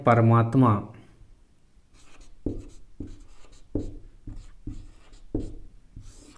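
Chalk or pen strokes of a heading being written by hand in a classroom lesson, a run of short, evenly spaced taps and scratches following a brief burst of nearby speech.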